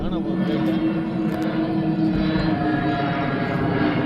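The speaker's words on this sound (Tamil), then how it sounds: "கோகோ அந்த ஃப்ளைட்ல தான் வந்துட்டு இருக்காரு" An airplane passes overhead during outdoor mutton fry cooking, a steady broad engine drone running throughout with people talking over it.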